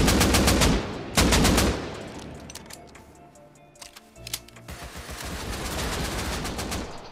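Rapid, loud bursts of AK rifle fire from the video game Rust come in two close volleys at the start, followed by quieter scattered clicks and shots.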